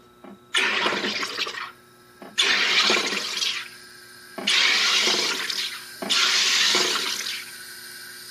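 SodaStream carbonating thin Tabasco hot sauce, four loud bursts of rushing, hissing gas bubbling through the liquid, each lasting over a second with short pauses between, close and alone.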